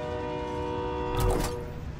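A train in a multiplayer shooter video game sounds sustained, horn-like tones, then swells into a brief louder rushing pass before settling back.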